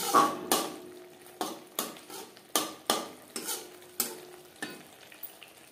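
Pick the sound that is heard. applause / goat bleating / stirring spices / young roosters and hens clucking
stirring spices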